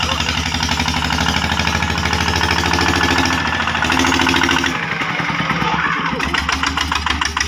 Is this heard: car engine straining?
yes